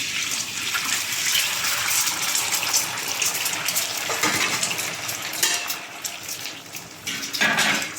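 About twenty cracked eggs fry and get stirred in a pan for Chinese egg fried rice: a steady, close, loud wash of sizzle with scraping stir strokes throughout, no voices.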